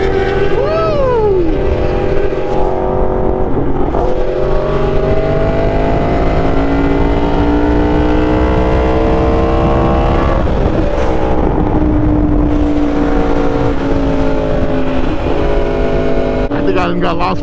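A Yamaha R1 sport motorcycle rides through Miami at night, its engine droning loud and steady with rising and falling pitch as it revs, mixed with rushing wind and other traffic nearby.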